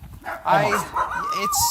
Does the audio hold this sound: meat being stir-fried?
no